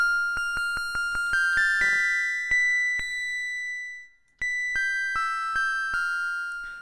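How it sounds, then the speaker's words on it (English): A synthesized chiptune bell built from a hand-drawn waveform rings out in a rapid series of bright, pure tones, each note struck sharply and decaying, with a short gap before more notes continue. "Like, oh, okay, we've now made a bell sound."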